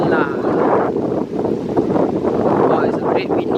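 Strong wind buffets the microphone at a beach car park, a loud continuous rumbling roar with gusty swells throughout.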